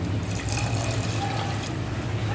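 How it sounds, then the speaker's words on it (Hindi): Water poured into a pot of browned mutton for Moradabad-style arbi gosht, a soft steady trickle and splash over a low kitchen hum, with no talking. "इसमें हम पानी ऐड करेंगे।"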